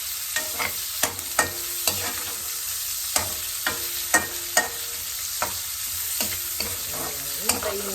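Pancit ingredients sizzle and fry in a pan, with a spoon or spatula stirring and scraping in repeated sharp strokes over a steady hiss; close and moderately loud, with no talking.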